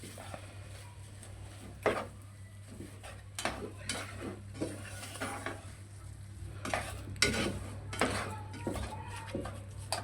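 Potato filling for aloo paratha being mixed in a bowl, with repeated scraping, clinking spoon strokes at an irregular rhythm over a steady low hum, close and moderately loud, with no speech.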